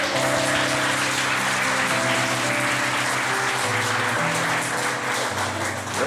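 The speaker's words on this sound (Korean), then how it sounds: "박수 줘야 될 분위기인 것 같아요." A church congregation applauds steadily through a Sunday worship service, a dense, sustained wash of clapping with keyboard or organ tones sounding underneath.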